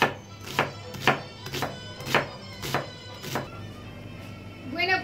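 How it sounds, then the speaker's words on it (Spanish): A knife chops small onions on a board while preparing habas a la catalana: about seven evenly spaced, close thunks over a few seconds, then a quieter stretch with a faint trailing sound. "Y ahora, pues, la picamos toda."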